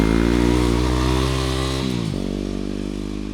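A Yamaha WR250R dirt bike engine runs loud and close with a steady buzzing drone, and its revs dip briefly about halfway through.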